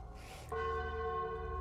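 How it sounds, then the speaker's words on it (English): A church bell strikes once and keeps ringing with a clear, sustained tone that hangs after a soft lead-in, heard alone and fairly faint. "But always the bell comes first."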